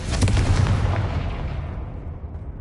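A Confringo spell bursts in Hogwarts Legacy, a loud, close booming explosion with crackling debris that rumbles and decays over about two seconds.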